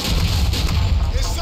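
Heavy game gunfire and booms from Grand Theft Auto IV: The Ballad of Gay Tony, including sniper rifle shots, forming a loud continuous barrage with low rumble.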